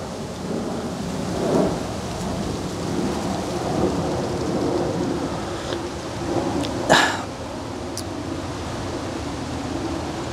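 A steady rain-and-thunderstorm wash goes on throughout, with low thunder rolling through and one sharper, louder crack about two-thirds of the way in. No voices are heard.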